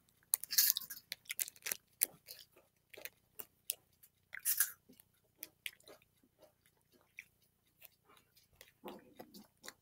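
A cola ball sweet being chewed and crunched close to the mic, sharp irregular bites and crunches scattered throughout with quiet gaps between them.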